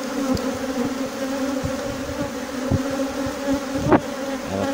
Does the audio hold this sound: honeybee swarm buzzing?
yes